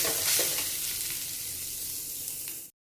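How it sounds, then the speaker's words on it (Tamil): Grated coconut and urad dal frying and being stirred in a hot pan, a loud close sizzle with scraping stirs throughout before cutting off abruptly. "இனி இந்த தேங்காவை போட்டு ப்ரௌன் கலர் வருது வரை வறுக்கணும்."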